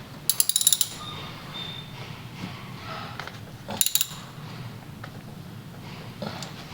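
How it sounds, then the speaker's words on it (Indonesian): Ratcheting clicks from a wrench tightening a bolt during a motorcycle oil change, two short bursts of rapid metallic ticks near the start and middle, close and fairly loud, with quieter mechanical fiddling between. "terus kencenginnya searah jarum jam, ngencengin bautnya ya"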